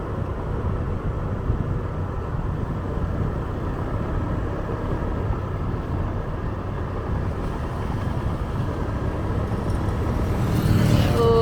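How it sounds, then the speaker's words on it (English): A big truck rumbles along behind on a road near Siem Reap, Cambodia, a continuous low road roar that swells louder near the end as it closes in. "Oh, a big truck behind me."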